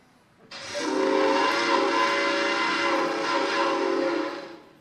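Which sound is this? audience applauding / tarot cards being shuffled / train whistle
train whistle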